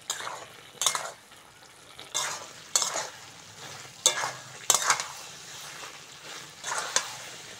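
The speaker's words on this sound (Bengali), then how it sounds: "এবার বন্ধুরা হালকা করে নেড়ে চেড়ে কষে নেব।" Bengali potato vegetable curry being stirred and fried in a pan, with repeated scraping strokes of a spoon at irregular intervals over a steady soft sizzle, close and moderately loud, no talking.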